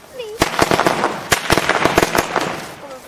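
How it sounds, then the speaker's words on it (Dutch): A rapid string of sharp category 1 consumer firecracker bangs goes off nearby, loud irregular pops packed closely together over a few seconds. "Dat klinkt als een goede kat 1 vuurwerk."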